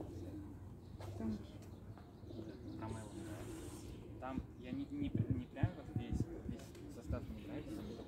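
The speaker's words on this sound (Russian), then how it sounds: "За тобой идут голуби, да?" Soft pigeon cooing and bird sounds in a park, with people talking nearby throughout.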